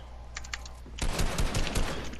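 Rapid clicking keystrokes on a computer keyboard burst in after a brief pause, dense and continuous like fast typing, with a few lighter taps before, during a 1v1 game tournament.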